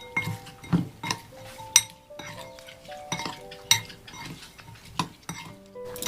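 Shrimp being mixed with salt and turmeric in a bowl, a spoon or fingers giving irregular clinks and taps against the dish with soft stirring in between, close and fairly quiet, no talk.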